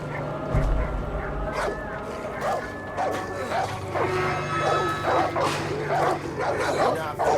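A dog barks and yips repeatedly in the Far Cry 5 video game, loud and close, with whimpers between barks and a low steady hum underneath.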